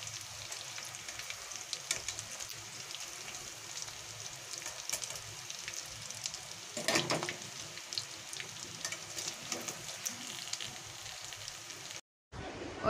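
Fish roe fritters frying in hot oil, a continuous soft crackling sizzle with occasional spatters, then a brief cutoff near the end.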